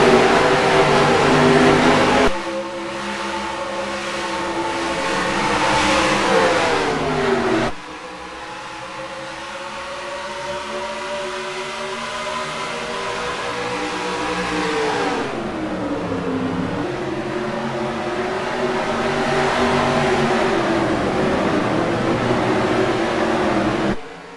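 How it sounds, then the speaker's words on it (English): Truck Series race trucks howl through a steep 40-degree banked turn and onto the front stretch, their loud engines rising and falling as the field passes in waves, close and continuous. "The truckers go through that monstrous 40-degree banking and come onto the front stretch."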